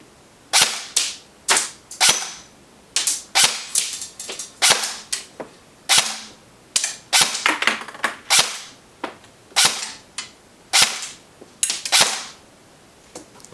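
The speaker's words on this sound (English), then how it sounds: "Now let's go ahead and chrono the Smith & Wesson M&P M4 carbine with .25 gram rounds." A Smith & Wesson M&P 15 airsoft electric rifle fires .25 gram BBs through a chronograph, each shot a sharp, close snap, spaced about one per second in an uneven rhythm with no talk.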